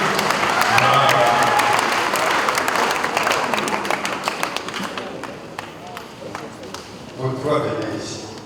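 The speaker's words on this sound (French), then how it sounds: "Voilà, on peut les applaudir, hein?" A parish congregation applauds young church readers at an anniversary celebration, with clapping that starts full and thins into scattered claps, accompanied by crowd chatter and voices.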